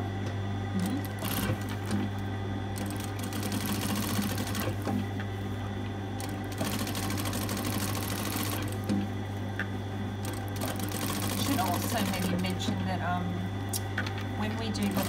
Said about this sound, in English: Now we stitch on the under collar or the upper collar. So we edge stitch